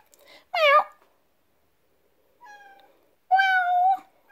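A cat meows three times at close range: a sharp short cry, then a softer call, then a longer drawn-out meow.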